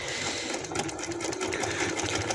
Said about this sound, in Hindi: अब मैं पिन को उतार दूंगी और एंड तक सिलाई लगा दूंगी।